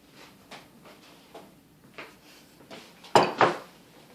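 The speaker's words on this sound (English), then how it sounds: "So you just scoop out the squash." Spoon scooping cooked squash into a bowl for homemade baby food: a series of soft scraping clinks, then two sharper, louder knocks near the end, close and quiet, with no talk.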